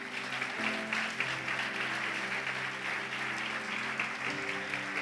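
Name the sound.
congregation applause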